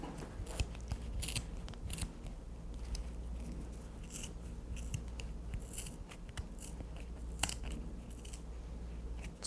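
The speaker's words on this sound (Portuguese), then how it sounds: "Vem com a tesoura pelo meio e corta." Scissors snip through yarn in a series of sharp, close clicks scattered irregularly over a quiet background, with no voices.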